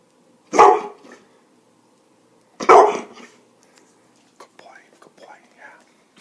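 A dog gives two loud, close barks about two seconds apart, followed by a few faint, scattered sounds in an otherwise quiet room.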